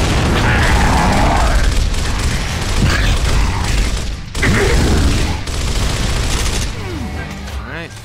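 Explosions and gunfire in the video game Gears of War, with a grenade blast amid loud, dense clattering shots and mechanical rattles, while a voice talks over the din.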